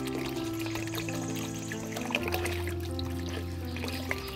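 Water is poured into rice flour to mix a batter for rice papad, a soft, faint trickle and splash against a steady low background hum, with no voices.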